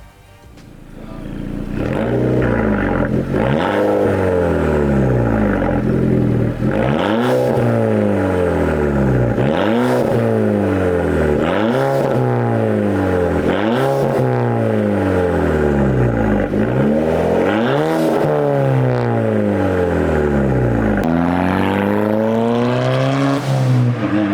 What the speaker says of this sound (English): I will throw in a couple exhaust clips here.